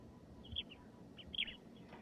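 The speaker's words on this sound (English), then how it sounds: "Thanks for noticing birds with me today." Small birds chirp in two short, faint bursts over a low background rumble, with no voices.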